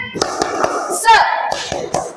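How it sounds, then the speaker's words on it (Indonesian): Hand claps in a classroom spirit-clap routine, a few sharp claps spaced irregularly across two seconds, close and moderately loud, mixed with children's voices chanting along. "Kita tepuk semangat dulu."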